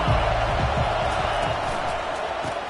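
A stadium crowd roars steadily throughout a football game, a dense, loud wash of cheering and noise with no breaks, heard from within the stands.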